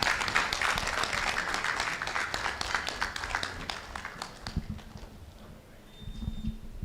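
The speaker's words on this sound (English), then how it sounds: "Please welcome her with a round of applause." An audience at a nursing association signing ceremony applauds a guest from Ridge Hospital, with brisk clapping that thins and fades into scattered claps and a few low thumps near the end.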